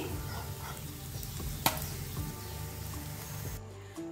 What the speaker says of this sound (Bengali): বাকি বড়াটাও ভেজে নেব একইভাবে।